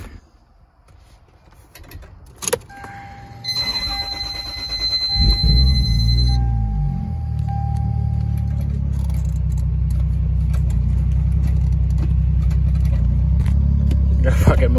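A Lexus GS300 with a swapped 2JZ-GTE engine pulls away on a first drive. A steady, close engine drone builds and holds after a few clicks, mechanical squeaks and beeps.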